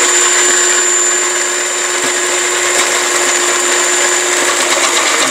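An electric food processor chopping large onions runs as a steady, loud motorized whir with a constant high whine, continuous from start to finish with no voices.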